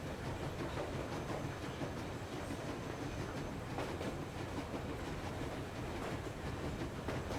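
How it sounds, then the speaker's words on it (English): A train running on rails in the Metro Exodus video game, a steady, dense rumble with faint rhythmic clatter holding at an even level throughout, close and continuous. "Very cool train."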